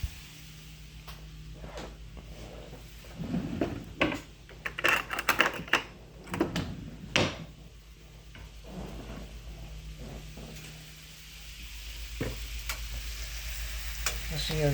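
Hot Italian sausages fry in a pan with a soft, steady sizzle, broken midway by a burst of clicks, clatter and scraping before it settles back to a quiet hiss.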